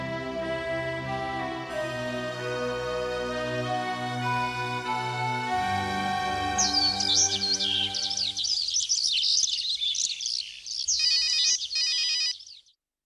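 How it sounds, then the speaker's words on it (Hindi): A phone ringtone plays a melodic tune, then shifts into a bright chirping, trilling pattern before cutting off abruptly. "मम्मा का फोन है।"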